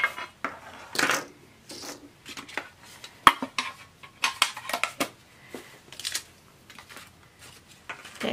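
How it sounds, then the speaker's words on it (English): Small QOR Earth Colors watercolor paint tubes being taken out of their packaging, heard as close, busy clattering, clicking and rustling in irregular bursts, with no talking. "Take these little tubes out."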